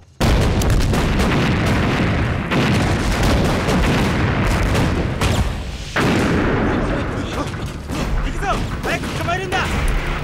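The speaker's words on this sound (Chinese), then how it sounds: "枪声下的刘三小组跟鬼子干上了" Dense, loud gunfire and booming explosions fill a wartime battle scene from a Chinese anti-Japanese war film, with rapid shots and blasts running almost continuously and voices mixed in.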